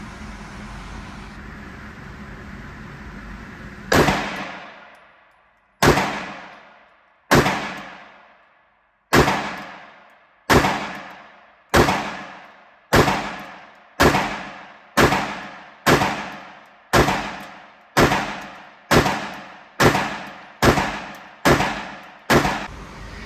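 Staccato P IGNIS pistol with ports firing at a shooting range: after a lead-in of ambient noise, a run of about fifteen sharp, loud shots with short ringing decays, spaced evenly at first and then coming faster.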